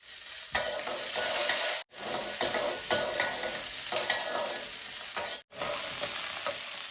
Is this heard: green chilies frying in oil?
yes